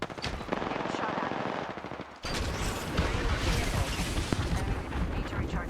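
Sustained automatic gunfire in the Apex Legends battle royale game, a dense, loud rattle of rapid shots with booming impacts that cuts briefly near two seconds, then continues just as intensely.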